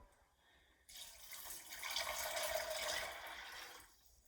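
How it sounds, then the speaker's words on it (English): Tap water pours steadily into a pot of dried beans, starting abruptly and running for about three seconds before stopping, quiet and close with no talking. "So now that they're in my pot, I'm going to add 4 cups of water to them."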